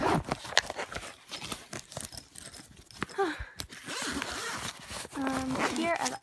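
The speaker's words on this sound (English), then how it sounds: "I'm gonna zip it up" A makeup brush case being zipped shut, a close, quick zipper rasp among handling noises, with someone talking before and after.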